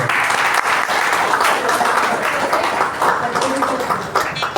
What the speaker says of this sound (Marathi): सर्वांनी टाळ्या वाजवायच्या आहेत